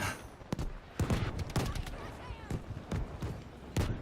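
Video game artillery fire: a series of sharp, loud blasts and thuds at irregular intervals, some near and some farther off, with voices talking over the barrage.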